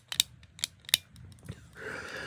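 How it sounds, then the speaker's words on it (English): A Transformers Reflector toy camera gives three sharp plastic shutter clicks in quick succession, close and fairly quiet, followed by a few softer mechanical ticks and a low hiss. "you have the clicking sound when you take a picture"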